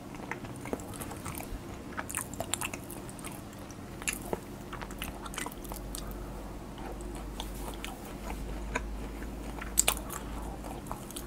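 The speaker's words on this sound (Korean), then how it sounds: "그걸로 선정된 100개 중에 한 개를 지금 먹고 있습니다" Handmade chocolate roll cake being eaten up close, with soft bites and moist chewing repeated steadily over a quiet background and no talking.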